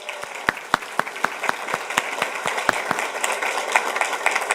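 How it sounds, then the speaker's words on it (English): A school board meeting audience applauds Presidential Scholar nominees: sharp, distinct individual claps at first, building into a fuller, steadier round of applause in a room. "And let's give our nominees one more round of applause."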